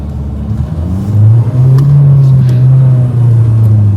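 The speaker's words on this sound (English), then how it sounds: "Let's rev the engine up to 3000 rpm and off we go" A loud, close Mahindra Scorpio N SUV engine revs up to 3000 rpm, its low drone climbing in pitch and holding steady as the vehicle pulls away.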